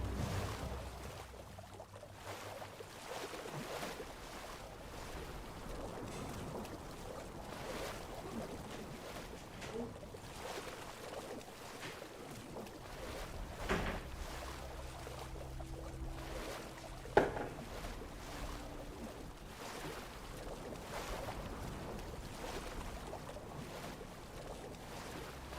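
Swimming through water in the game Tainted Grail, soft splashing and watery movement over a low ambient rumble, fairly faint throughout, with a sharp brief knock near the end.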